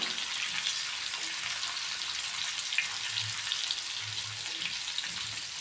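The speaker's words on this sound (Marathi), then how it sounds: "कारली छान परतून घेऊया" Bitter gourd frying in a pan over medium heat, a steady, close, even sizzle of hot oil with faint occasional crackles and no voices.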